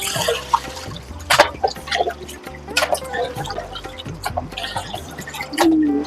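Fish pieces being washed by hand in water make close splashes, drips and trickles. Irregular sloshing and light clatter of the pieces and vessel come in uneven bursts.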